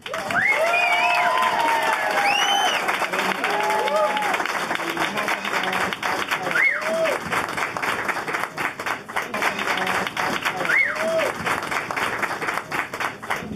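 A seated audience at a congressional campaign announcement applauds Cindy Olivas Trigg's entrance with sustained, dense clapping and a few cheers. The applause holds steady for the whole stretch, with murmured voices mixed in.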